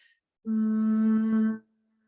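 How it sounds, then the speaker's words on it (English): A steady, low, even hum lasting about a second, made by people during a wellness class breathing exercise, starting and stopping cleanly in an otherwise quiet room. "we're going to make a humming sound"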